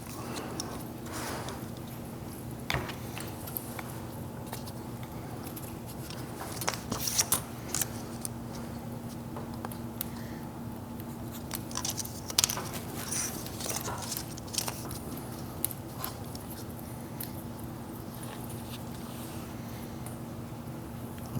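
Pieces for a perspective frame being cut to size, with scattered snips and crisp cuts over a steady background hum, sporadic and close, no talk.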